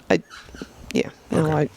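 A dog barks at something nearby in short sharp bursts, several quick yips followed by a longer whining bark, close and moderately loud.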